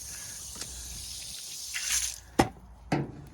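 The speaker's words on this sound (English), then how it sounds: "wash station, bucket filling station for this year. Get nice flow on that." Water runs from a tap at an outdoor drain wash and bucket filling station, a soft steady flow with a brief surge, then a couple of sharp knocks and splashes near the end.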